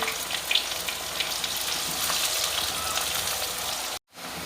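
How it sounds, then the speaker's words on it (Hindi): Steady, loud sizzling and crackling of chopped onions frying in hot oil, continuous and close, cutting off abruptly near the end. "अब हम डालेंगे इसमें अपने कटे हुए प्याज। इनको अब हम ब्राउन कर लेंगे।"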